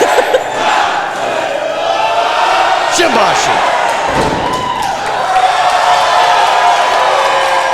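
A wrestling crowd cheers and roars in an arena, loud and sustained, with a heavy thud partway through and an excited commentator talking over the noise.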